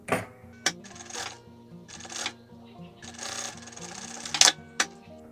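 A sewing machine stitches a seam in a fabric mask in short close bursts of rapid whirring, separated by pauses and a few sharp clicks.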